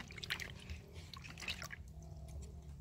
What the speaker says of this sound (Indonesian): ini juga amplasnya dibersihkan dulu ya pakai air